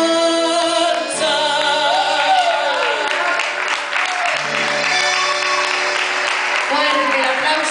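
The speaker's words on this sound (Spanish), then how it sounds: "Fuerte el aplauso" An audience applauds after a live folk song performance, with steady clapping and crowd noise filling the whole stretch while a voice speaks over it.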